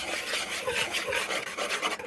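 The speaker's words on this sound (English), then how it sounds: "I'm going to go ahead and whisk all these dry ingredients together" Whisk scraping and rasping steadily through dry ingredients and flour in a bowl for apple cake, a continuous close rubbing texture with quick repeated strokes and no talking.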